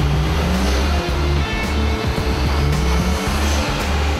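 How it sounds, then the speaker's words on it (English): Nissan Skyline R33 fitted with an HDI intercooler kit running on dyno rollers, a loud steady engine drone with rhythmic pulsing at near range, uninterrupted by talk. "Now time to get the Sky back on the rollers to test out the HDI intercooler kit."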